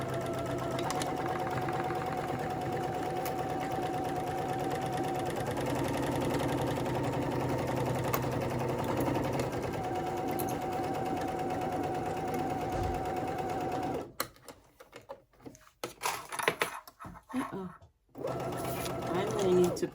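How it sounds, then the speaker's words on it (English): A sewing machine bastes two beauty-bag gusset pieces together, wrong sides facing, stitching in a steady near hum that runs without break for about fourteen seconds before stopping, leaving fabric handling and scattered clip noises. "take it to the sewing machine"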